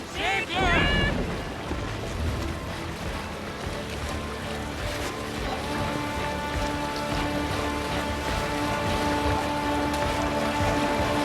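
Viking longship under sail on open water in Assassin's Creed Valhalla, a steady wash of waves and hull splashing carrying on throughout, with a shouted voice at the start and game music layered over the sea noise.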